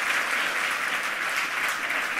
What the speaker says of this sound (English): please give Lepht Anonym a really warm welcome